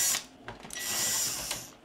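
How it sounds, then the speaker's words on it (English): A screwdriver backs out small screws holding the circuit board inside a Magnavox Funai ZV427MG9 DVD-VCR combo, producing close, brief ratcheting clicks and scraping metal squeaks in a short burst, with no one speaking. "I need to take out these 3 screws right here to get the circuit board loose."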